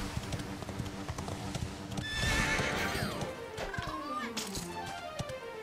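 A horse in the video game Dragon Quest XI whinnies over rhythmic clip-clopping hooves, with a swelling musical swirl in the middle and faint voices underneath.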